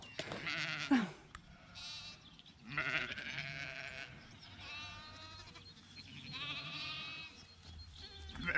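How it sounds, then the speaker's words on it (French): Several sheep bleat in turn across the clip, loud wavering cries overlapping one another, with no talking. "Et ça c'est ce qu'on appelle un troupeau de moutons les enfants."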